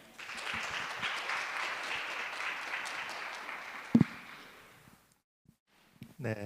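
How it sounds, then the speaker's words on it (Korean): An audience gives a steady round of applause welcoming a professor onto the stage for a special lecture. It fades out after about four seconds, then a voice begins speaking. "저희 교수님 나오실 때 저희 큰 박수로 환영하겠습니다"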